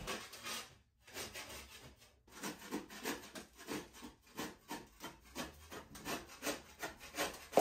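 Old caulking and chipped, peeling paint are scraped off a bathroom wall where trim was removed, a close series of rhythmic rasping strokes with a brief pause near the start.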